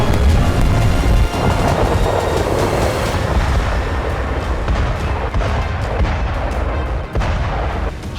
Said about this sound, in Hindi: हर मिनट बारूदी धमाका,